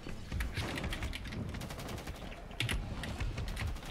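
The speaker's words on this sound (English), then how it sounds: "Why'd you shoot him?" Gunfire in Rainbow Six Siege, including a belt-fed pump-action slug shotgun, comes as rapid, sharp clattering bursts of shots, fairly faint, with a louder cluster of reports near the middle.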